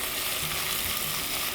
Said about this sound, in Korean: 참기름 좀 달궈지기 시작하면은 그때 이제 미역 집어넣을게요